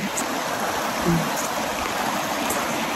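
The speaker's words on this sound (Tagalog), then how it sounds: "narinig niyo po yung agos ng tubig" River water at Verdivia Falls in Bulacan rushing steadily after Typhoon Ulysses, a soft, even wash of noise, fairly distant, with a faint brief murmur partway through.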